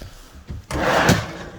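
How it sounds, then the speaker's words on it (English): A full extension drawer under the dinette of a 2021 Premier 34RI travel trailer slides open or shut with a close, loud rolling rumble that swells and then fades, after a brief bump. "Full extension drawers on the dinette underneath there."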